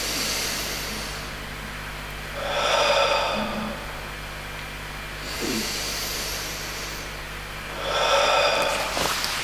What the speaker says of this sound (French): faites la même respiration en inspirant par le nez et en expirant par la bouche 6 fois de suite au moins